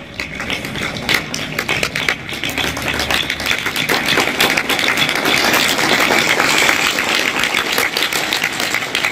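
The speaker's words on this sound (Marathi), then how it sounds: "सगळ्यांनी टाळ्या आपल्या मम्मीसाठी, आपल्या घरच्या महिलांसाठी टाळ्या वाजवल्या" Students at a school event for International Women's Day clap in a steady, dense burst that grows louder and fuller after the first few seconds, with no talk over it.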